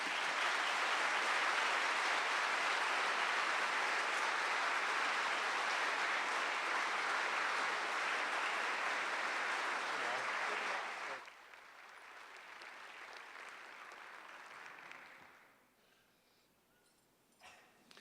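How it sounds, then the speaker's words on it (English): Warm applause from a US Senate debate audience for the candidates, loud and sustained for about eleven seconds, then dropping to lighter, thinner clapping that fades out. "let's give our candidates a round warm of applause there"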